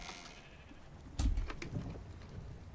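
Sheep in the video game ARK Aberration give a short bleat followed by a couple of fainter bleats, quiet against a soft background hum.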